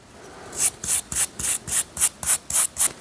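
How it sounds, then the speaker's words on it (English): A file's grooves being scrubbed clean of stuck debris with about ten brisk, evenly spaced rasping strokes, close and loud, alone in a quiet workshop. "There was some debris stuck in the grooves of the file that I'm trying to get out."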